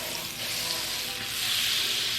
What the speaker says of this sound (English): we're going to sear the pork chops for about 3 to 4 minutes on each side